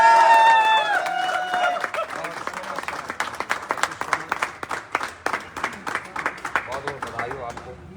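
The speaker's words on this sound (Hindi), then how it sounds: "एक जोरदार तालियां।" An audience applauds at a direct-selling business event in India, welcoming a guest speaker. A brief musical chime opens, then dense, energetic clapping from a large crowd continues and slowly thins out toward the end.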